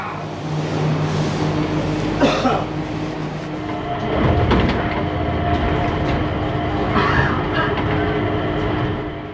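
A small tourist train runs past in an outdoor setting with a steady rumble and a mechanical hum. A few brief louder clatters and faint bird calls come through the noise. No talk.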